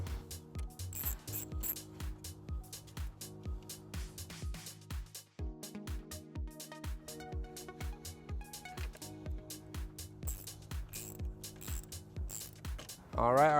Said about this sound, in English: We're going to go ahead and remove that with a 10mm socket.